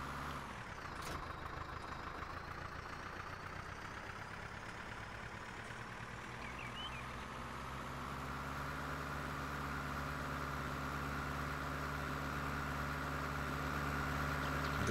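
Steady tractor engine idling and droning in Farming Simulator 19, a continuous low rumble that holds even for fifteen seconds and grows slightly louder toward the end, with no talk.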